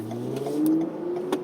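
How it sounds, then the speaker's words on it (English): A Toyota Avalon with a TRD exhaust gives a brief, fairly faint rev, the engine note rising and easing in a short burst without talk. "So we have this exhaust on this vehicle. It's a TRD exhaust."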